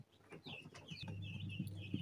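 Newly hatched chicks in a plastic mechanical incubator on hatching day 21 peep softly, several thin high chirps overlapping, quiet and near.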